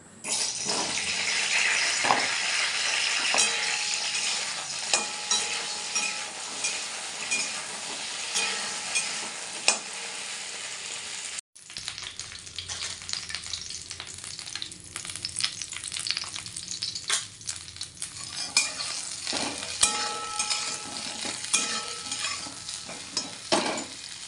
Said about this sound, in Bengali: আর এই দেখো এই ফুলকপিগুলো এখন ভেজে নেবো